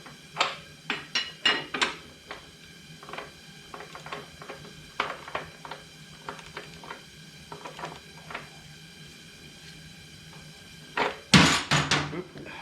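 A wrench works the rear axle nut of a 2023 Harley-Davidson Pan America motorcycle, giving sharp metallic clinks and clanks in irregular bursts, close and fairly quiet, ending in a louder cluster of rapid knocks.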